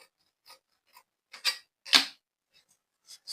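Scissors snipping through dress fabric, a few crisp, separate cuts with short pauses between them, fairly close and quiet with no talking.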